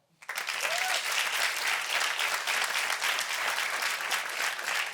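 Live show audience breaks into sudden, dense applause that starts abruptly and holds steady and loud, a full room of clapping with a faint cheer near the start.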